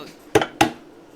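A bowl packed with rice is turned out onto a plate, producing two close, sharp ceramic knocks a fraction of a second apart, with quiet room tone around them.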